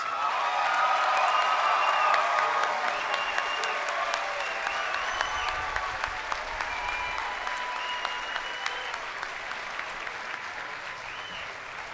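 A large audience gives a sustained round of applause at a school commencement, loud and dense at first, then tapering slightly, with faint cheers and a brief whistle mixed into the clapping crowd.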